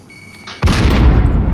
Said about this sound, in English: Oh, thermite grenade,